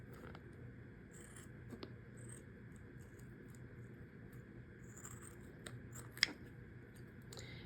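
Cutting into a home-tanned beaver tail hide gives a few faint, close snipping and scraping ticks scattered across a quiet low hum, with one sharper click standing out near the end and no voices.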